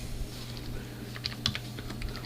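Close clicking of keys on a computer keyboard during a TempleOS command-line session, a quick irregular run of light taps with a few sharper strokes and a low background hum.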